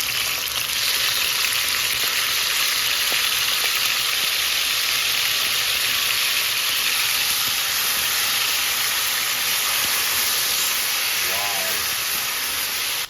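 Porcini mushrooms and rosemary frying in oil in a pan, a steady, loud broadband sizzle and hiss that runs continuously without pause, close up and unbroken by talk.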